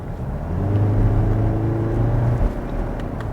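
A diesel Kia Sorento with a wet dual-clutch transmission accelerates, heard from inside as a steady, close engine drone that climbs gently and then drops briefly near the end, as if shifting gear. No one talks.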